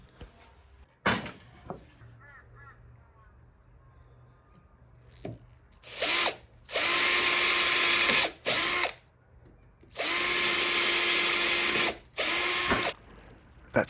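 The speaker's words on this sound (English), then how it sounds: "I'm drilling a pilot hole to prevent splitting." A power drill bores a pilot hole near the end of a wooden board for an Adirondack chair, with several loud whirring bursts separated by short pauses and faint clicks between runs.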